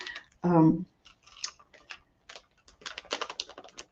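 Scissors snip and crunch through a cake mix packet in a run of small, close clicks and cuts, following a brief burst of voice at the start.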